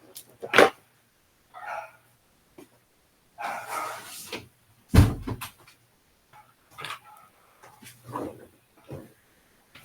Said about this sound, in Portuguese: Deixa eu fechar aqui uma porta que tem muito barulho